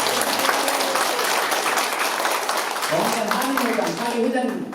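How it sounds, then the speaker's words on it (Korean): Audience applause at a Korean community association's inauguration and spring festival gathering in Birmingham, steady and full throughout, with a voice speaking over it in the second half. "이춘식 이사장님 일어나서 인사하시면 크게 박수 드립니다"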